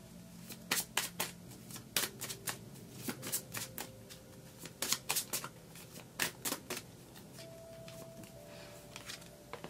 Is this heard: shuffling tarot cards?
yes